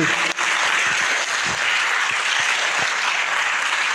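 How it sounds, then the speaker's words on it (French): An audience at a talk on philosophy and religion applauds with sustained, loud, even clapping that fills the whole stretch without pause. "Encore plus fort, applaudissez."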